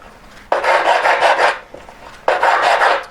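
Two bursts of harsh rasping, a metal file scraping back and forth across a handmade court-shape ring band in quick strokes, close and loud with a brief pause between.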